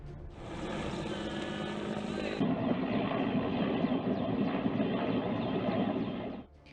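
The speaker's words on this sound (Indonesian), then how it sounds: "pemadaman juga dilakukan melalui jalur udara dengan menerjunkan 1 helikopter pembom air" A single water-bombing helicopter flies over a burning forest and farmland in Ogan Ilir, Palembang, a steady close rotor and engine drone that swells slightly midway, then cuts off abruptly near the end.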